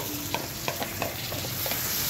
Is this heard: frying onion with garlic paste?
yes